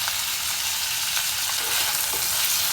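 Tomatoes sautéing in a pan for plantain shoot sambar, giving a dense, even sizzle that stays loud and constant throughout with no voices.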